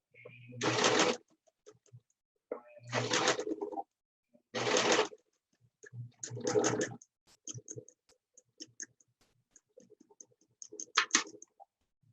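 A basic home sewing machine stitching through thick pleated mask fabric, running in about five short whirring bursts of roughly a second each, separated by pauses with faint handling clicks, close and loud.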